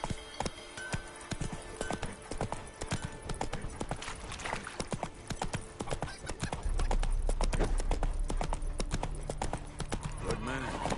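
Horse hooves clip-clop steadily in The Witcher 3 as the mount trots along, a close, regular rhythm under game music, with ambient game sound around it.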